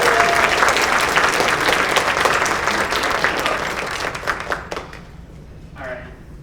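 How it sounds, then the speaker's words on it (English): A theatre audience at a live radio-play performance breaks into loud sustained applause, a dense wash of many hands clapping that fades toward the end as a voice begins to speak. "Give a round of applause if you want us to start this show."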